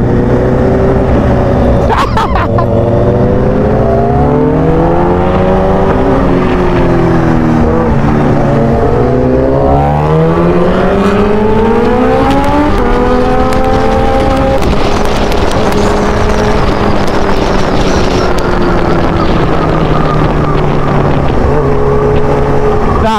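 A loud superbike engine revs repeatedly, pitch sweeping up and down close by, sustained throughout with a brief sharp pop early on.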